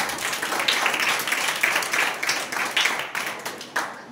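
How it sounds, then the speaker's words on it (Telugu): A church congregation claps together during a sermon, a dense, steady burst of many hands that holds for about four seconds at a fairly close, full level. "ఒకసారి చప్పట్లు కొట్టున్నాము"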